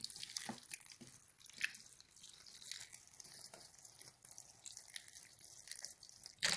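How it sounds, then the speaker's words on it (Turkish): Boiling water poured from above over grapevine leaves in a basin, giving a continuous splashing, trickling wash with small drips, fairly close and steady throughout. "leğene aldığım yaprağımın üzerine kaynattığım suyu döküyorum"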